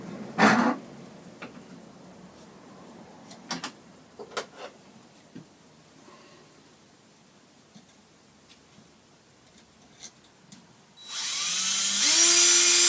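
An electric drill bores through an aluminium tin fitted on a walking stick shank between the ribs, a loud sustained whine bursting in at the end after scattered light taps and clicks.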